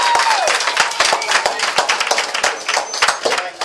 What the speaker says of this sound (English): I want all of y'all to give yourself a big round of applause